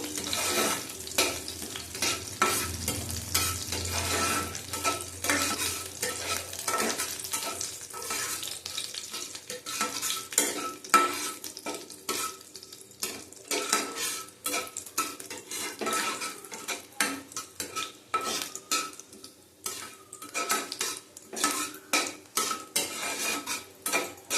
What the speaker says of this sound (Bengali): গোটা জিরে দিলাম, ফোড়নটা ভালো করে ভেজে নেবো